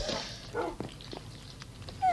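Dogs in the Minecraft video game whimpering and yipping in short, thin cries scattered over about two seconds, fairly quiet amid game noise during a monster attack on a house.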